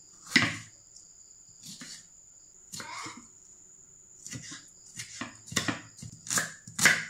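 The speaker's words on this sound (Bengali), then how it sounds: "একটু শসাটা কুচে নিয়ে পেঁয়াজ কুচবো" Knife chopping cucumber and onion on a board at home, a scattering of irregular close taps and thumps in short bursts, alone without talk.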